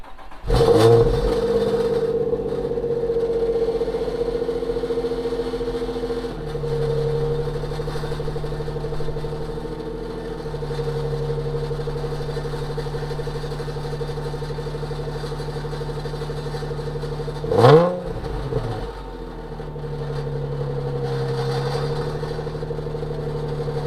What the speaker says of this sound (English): But I'll go ahead and do a cold start for you guys.